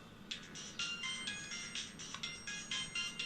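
A phone ringtone plays quietly in a room, a repeating electronic melody of short, bright note bursts with no voices over it.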